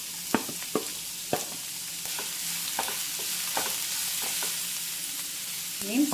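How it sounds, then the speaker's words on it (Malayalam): Small onions, grated carrot and beans fry in a pan for broken wheat upma, a constant soft sizzle broken by several spoon strokes and scrapes. "എല്ലാം ഒന്ന് ഇളക്കി ഒന്ന് ഹാഫ് കുക്കാക്കി എടുത്താൽ മതി."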